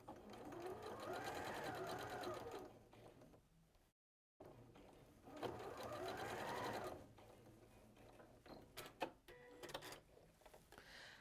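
A domestic sewing machine runs in two long bursts of fast, whirring long-length basting stitches through lining fabric, each winding up and down, followed by scattered clicks and small mechanical knocks as the work is adjusted.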